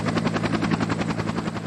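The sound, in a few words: helicopter blowing gusts across a crop field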